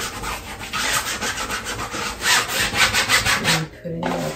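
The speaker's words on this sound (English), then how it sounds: "this is my oldest brush. It's not soft, so I'm doing scratches." A stiff old paintbrush scratches paint across a canvas during abstract painting, a close, dry rasping rub in repeated strokes that stop briefly near the end.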